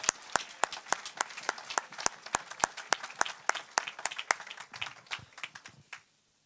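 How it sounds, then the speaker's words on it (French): Church congregation applauding, a steady run of crisp, evenly spaced claps at moderate distance, fading out at the end. "On acclame Jésus, bien sûr, on acclame Jésus."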